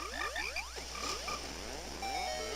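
Frogs croak in The Legend of Zelda: Ocarina of Time 3D, a busy run of rising chirpy game croaks and bright musical blips layered over each other, steady and close with no talking.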